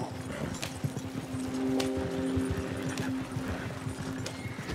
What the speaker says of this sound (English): Come on, you stupid horse!